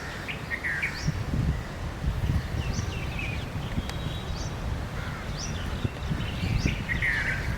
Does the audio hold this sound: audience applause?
no